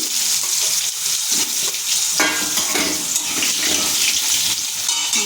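Potatoes go into hot oil seasoned with black cumin, ajwain, chilli and asafoetida. A loud, constant sizzle swells as they hit the pan, with scraping stir sounds throughout and no talking.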